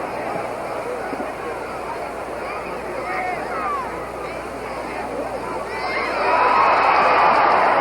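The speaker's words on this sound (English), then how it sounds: "The crowd beginning to react with glee" Boxing crowd at the Muhammad Ali versus Buster Mathis fight, a steady roar of many voices through the sixth round that swells louder and brighter near the end, with a commentator talking over it.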